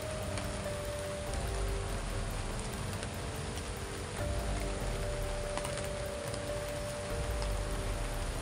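Steady rain falls in a continuous broadband hiss with faint ticking drips mixed in, even and unbroken throughout, no voices.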